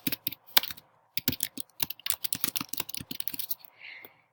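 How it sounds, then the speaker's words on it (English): Keys clack on a computer keyboard in quick irregular bursts as a sheet name is typed into a spreadsheet, close and crisp, with short pauses between runs of strokes and a faint rustle at the end. "I will click down here and type in the new name"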